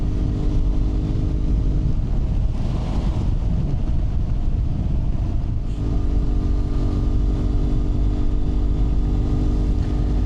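A 2015 BMW F800R motorcycle being ridden gives a steady, droning engine hum buried under constant heavy wind buffeting, loud and unbroken for the whole stretch, with no talking.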